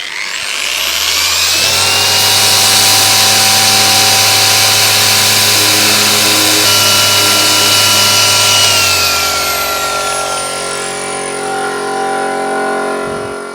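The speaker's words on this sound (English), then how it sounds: "We've got the air compressor hooked up, and we're just making sure that we give these a really good clean out." An air compressor blasts compound dust out of wool polishing pads while detailing a 2007 Subaru WRX, a loud, steady hiss and whir running continuously for most of the span with a tonal rotating whine.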